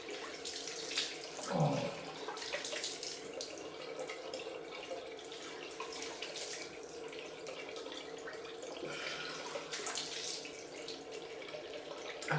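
Tap water running into a sink for a cold rinse after shaving, a steady close splashing stream with a brief bump of handling early on and a short exclamation from a man.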